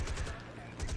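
Rapid bursts of Spitfire machine-gun and cannon fire in the aerial combat game War Thunder, loud, dense rattling volleys near the start and again toward the end, with a lull in between.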